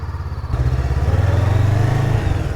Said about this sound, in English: let's take around the yard a couple of times and see exactly what this bike is all about.